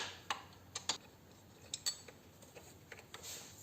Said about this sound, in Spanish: cogemos una llave de 13 y quitamos el tornillo que sujeta la varilla de